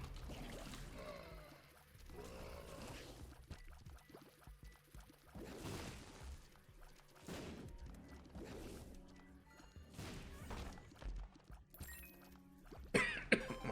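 A person coughs quietly during play of The Binding of Isaac: Repentance, the faint throaty bursts sitting low among soft game sounds and background noise.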